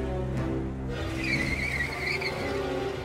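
A cartoon car skids in an accident, its tires squealing in a long, high screech over a loud, steady engine roar, close and sustained.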